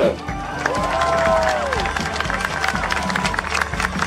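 Crowd applause and cheering for the German cyclist Liane Liebert at the finish podium ceremony of the women's Tour de Romandie in Geneva, loud and sustained under a public-address voice and crowd chatter.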